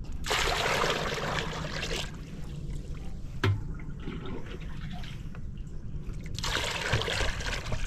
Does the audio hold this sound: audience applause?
no